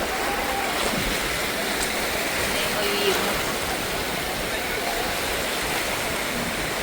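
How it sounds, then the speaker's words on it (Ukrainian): Steady roaring surf of the sea at Odesa, crashing water filling the scene continuously, with a voice speaking briefly over it. "Дивіться на ці хвилі."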